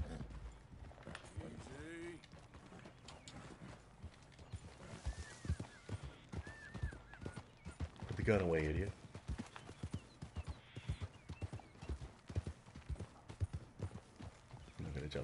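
Horse hooves pound in a rhythmic gallop during a Red Dead Redemption 2 Wild West game session, steady clip-clop under a voice talking and game dialogue, with a horse whinnying briefly midway.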